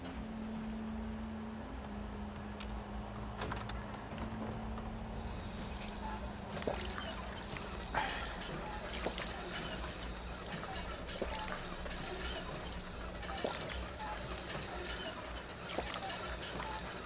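Water pours and trickles from a hand pump in a building and survival video game, a steady liquid stream with small splashes and clicks running throughout beneath a low background hum.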